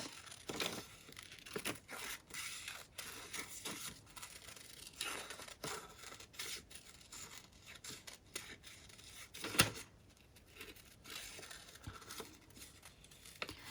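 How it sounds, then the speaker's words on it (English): Scissors snip and paper crinkles in quick irregular bursts as a paper flower is cut out for an envelope pocket craft, soft and close with no voices. "So I'm just going to cut the flower part."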